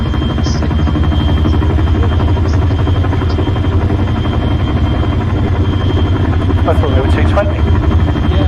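A helicopter's rotor and engine thrum heavily and steadily, heard loud from inside the cabin as people talk over the drone.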